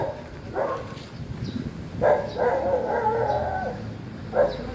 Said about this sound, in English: Man out taking a dog for a walk.